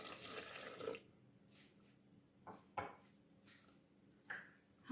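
A cup of water is poured onto powdered sugar and coconut in a bowl for a white sauce, giving a soft splashing pour at the start followed by a few faint clinks in a quiet kitchen.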